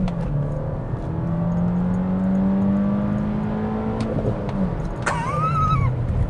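A VW Golf GTI engine revs hard under acceleration, its steady rising drone holding close and loud for several seconds before easing off, with a brief higher whine near the end.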